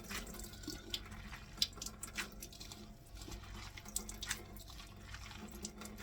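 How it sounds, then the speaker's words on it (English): Brine is squeezed by hand out of shredded cabbage in a kitchen, making a faint, steady wet trickle and drip with small squishy crackles throughout. "what we want to do is get rid of the brine, squeeze this."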